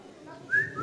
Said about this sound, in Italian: A fischietto.